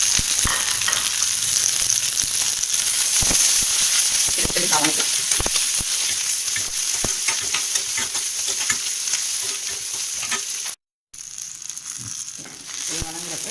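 Onion and garlic fry in a pan for a mushroom gravy, giving a loud, steady sizzle with stirring scrapes throughout and a brief cut to silence near the end.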